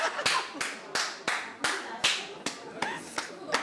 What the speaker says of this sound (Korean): 크게 박수 치면서.